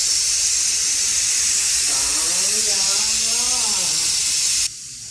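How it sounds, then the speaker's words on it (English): A pressure cooker vents steam in a loud, steady hiss that fills the clip, with a faint warbling tone partway through before the hiss cuts off abruptly near the end. "I released the steam"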